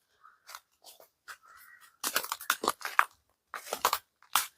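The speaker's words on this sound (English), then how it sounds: "the noise that you can hear now is our feet" Footsteps crunch over leaves and twigs in a small wooded area near an abandoned mausoleum, irregular rhythm, close and fairly faint, with quiet gaps between steps.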